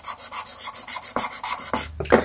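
Pastel is rubbed into a painted background in rhythmic strokes, a soft dry scraping that repeats about a dozen times, close and fairly quiet, ending with a couple of brisker, heavier rubs.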